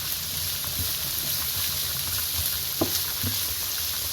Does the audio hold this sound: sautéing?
yes